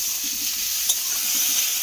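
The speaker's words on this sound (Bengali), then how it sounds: "এই আলুটাকে আমি দিয়ে দেব, দিয়ে খুব ভালো করে এইভাবে মিশিয়ে নেব।" Diced potatoes stirred into a frying sattu mixture, with a steady hiss of sizzling oil, soft scraping from the spoon, and one small clink partway through.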